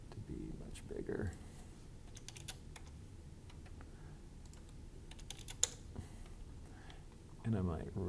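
Steady keyboard typing with rapid clicking keystrokes, fairly quiet and close, with a brief low murmur of a voice near the start and end.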